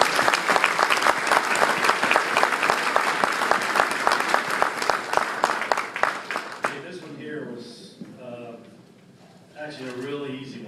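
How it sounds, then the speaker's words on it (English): Loud, sustained applause from a crowd at a baseball academy awards event for several seconds, then it stops and someone speaks into a microphone. "Round of applause, please."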